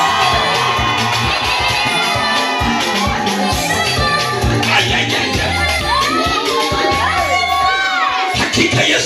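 A church congregation cheers loudly for Jesus, with a dense crowd roar, high shouts and whoops throughout and clapping mixed into the din.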